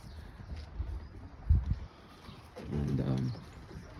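Pigeons coo in a backyard loft, one short rolling coo rising near the end after a few dull thumps, with quiet background noise.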